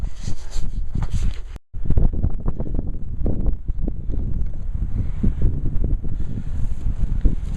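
Hot wind blows across a barren, fire-scarred desert ridge on Lake Mountain, with steady broadband buffeting against the microphone, a brief dropout early on, and rustling gusts continuing throughout.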